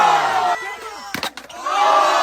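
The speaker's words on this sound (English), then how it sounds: "you have the whole skate park rooting and cheering for him" Skate park crowd cheering and whooping for a young skater attempting a curb trick, a loud sustained mass of voices that dips briefly in the middle before swelling again.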